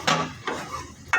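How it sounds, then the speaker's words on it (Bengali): Shrimp being sautéed with spices in a pan, heard as a few brief metallic clanks and scrapes of a utensil against cookware, close and fairly loud, with no voice. "চিংড়ি মাছ বোনা করতেছে, মশলা দিতেছে"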